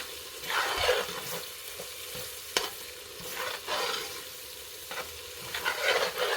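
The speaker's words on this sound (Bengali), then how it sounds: "মশলাগুলোকে ভালো করে কষাতে হবে।" Whole spices (cardamom, cinnamon, bay leaf, cloves) stir-fry in hot oil for a mutton curry: a steady close sizzle broken by scraping, clattering spoon strokes against the pan, with no talk.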